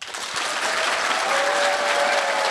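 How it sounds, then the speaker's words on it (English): Sustained applause from a crowd at a lightning talks session, dense and steady clapping that swells slightly and holds throughout, with no voices over it. "Can we have a round of applause for Lewis and don't do this?"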